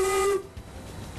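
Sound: steam train whistle on the steam-powered Small Town Express

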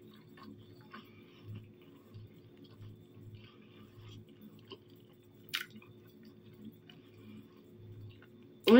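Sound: chewing food

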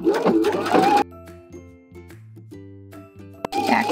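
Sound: sewing machine stitching shoulder seam of clear raincoat

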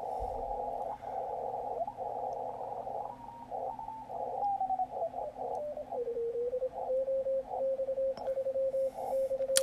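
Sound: CW Morse code signals on Yaesu FTdx10 ham radio

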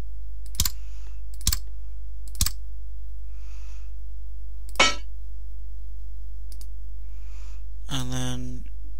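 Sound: computer mouse clicking

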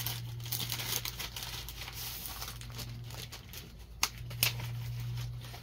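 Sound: opening a letter from a package

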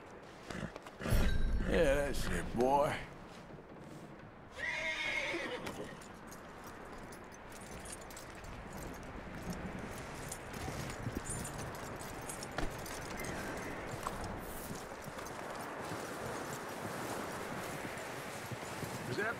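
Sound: horse neighing and hooves, from video game

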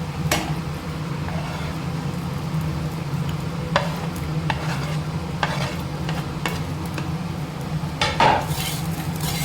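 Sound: okra being stirred in a cooking pan

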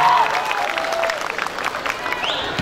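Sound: audience applause for a dance performance

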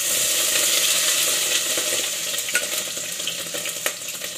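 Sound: pork frying in a pan with golden garlic

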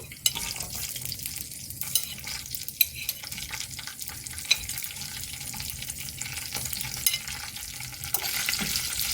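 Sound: green chillies frying and being stirred in a pan

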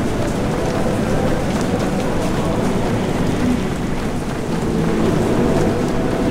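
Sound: rain in the video game Abadía del crimen extensum

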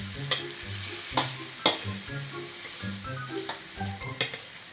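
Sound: stir-frying shrimp in a pan over medium heat

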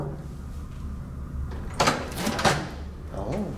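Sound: hotel suite door opening

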